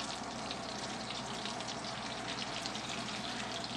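A cod fillet sizzling in foamy melted butter in a pan, a steady dense crackling hiss that stays even and close for the whole stretch, with no voices.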